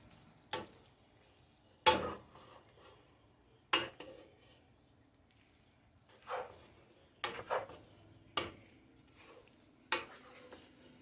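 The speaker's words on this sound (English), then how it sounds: "you're going to stir in your ragout" A spoon knocking against a cooking pot while ragout is stirred in, about eight sharp, separate clinks spaced a second or two apart, close and clear in a quiet kitchen.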